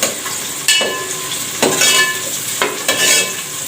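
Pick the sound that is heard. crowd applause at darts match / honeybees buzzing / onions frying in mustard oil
onions frying in mustard oil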